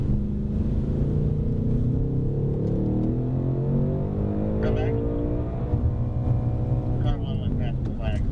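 A car, a 2024 Ford Mustang Dark Horse, drives past at speed: a loud continuous engine roar with rising and falling pitch sweeps as it closes and moves away, heard close with wind noise.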